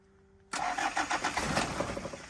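A car engine cranks and catches at once, then settles into a rough, pulsing idle close by, loud against a quiet background with no talk.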